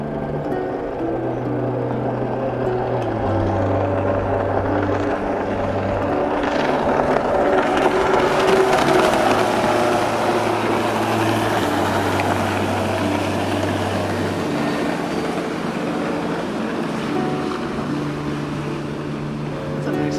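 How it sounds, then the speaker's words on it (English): Jet skis pass on the water among the 1000 Islands, a droning engine whine rising and falling over steady wind and hull noise, loud and continuous, while a person talks. "jet skis."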